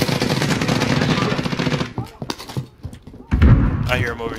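Akimbo M19 pistols firing in Call of Duty, a fast burst of close, loud shots for about two seconds, then scattered single shots and thumps with someone talking over the gameplay.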